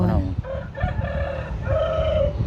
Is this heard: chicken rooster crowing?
yes